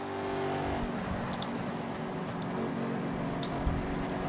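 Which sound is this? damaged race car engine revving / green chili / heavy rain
damaged race car engine revving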